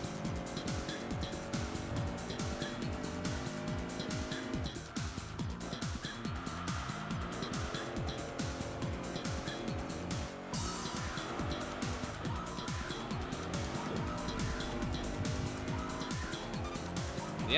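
Race cars including a Honda NSX scream through a race in Enthusia Professional Racing, with rapidly rising and falling engine notes as gears shift repeatedly, plus tire squeal, all fairly quiet and steady throughout.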